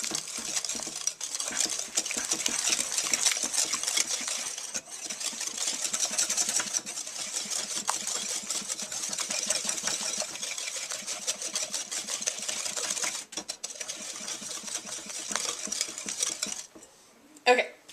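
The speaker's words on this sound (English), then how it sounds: "And I'm just going to use a whisk." A whisk stirs sugar into brownie batter in a bowl, a quick, continuous clinking and scraping close at hand that stops abruptly near the end.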